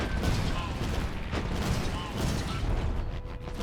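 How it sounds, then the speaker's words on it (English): Steady rapid gunfire and explosions from a video game, dense and continuous with sharp bursts throughout. "They are firing at us."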